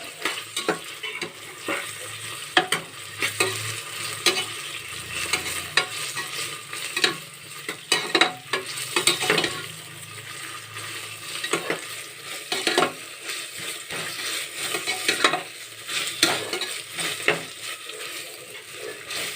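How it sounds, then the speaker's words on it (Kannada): Ginger-garlic paste stirred into vegetables frying in a pan: constant close scraping and clacking of a spoon in quick bursts over a soft continuous sizzle, with no voices. "ಶುಂಠಿ ಮತ್ತು ಬೆಳ್ಳುಳ್ಳಿ ಪೇಸ್ಟ್ನ ಹಾಕ್ಕೊತಾ ಇದ್ದೀನಿ ಮಿಕ್ಸ್ ಮಾಡ್ಕೋಬೇಕು"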